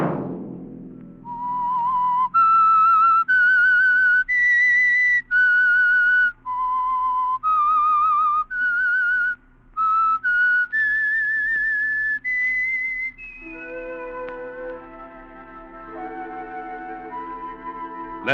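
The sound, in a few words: whistled tune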